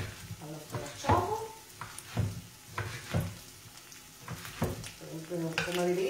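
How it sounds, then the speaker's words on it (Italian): Guanciale frying in a little oil in a pan, a steady soft sizzle with stirring scrapes, while someone talks over it. "Facciamo soffriggere insieme al nostro guanciale."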